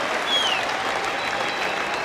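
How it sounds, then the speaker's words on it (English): Cricket crowd at Lord's during the 2009 Ashes second Test between England and Australia, applauding and cheering for a long partnership; dense, steady clapping and crowd roar fills the whole stretch without a break. "A mighty cheer for Michael Clarke and Brad Haddin"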